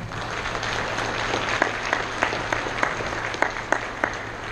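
Audience at a Masonic lodge memorial ceremony gives a round of applause, a steady mid-level clapping wash from a crowd indoors with a few sharper individual claps standing out, and no talking.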